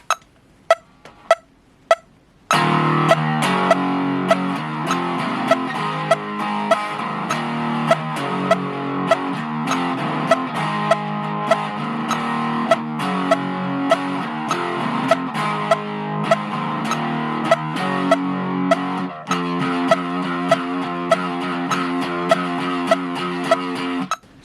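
Guitar playing part 2 of a song: a few clicks of a count-in, then a steady, loud distorted riff with repeating chord stabs, shifting pattern near the end, no voices.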